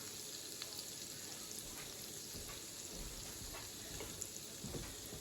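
Shrimp fry in a pan, probably with garlic, for a honey garlic lime shrimp dish, giving a steady, faint sizzle with a few soft pops and no talking.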